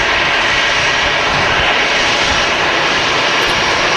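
An EasyJet jet airliner rolls past on the ground at Manchester Airport, its engines a loud, steady roar that fills the entire moment without any talk.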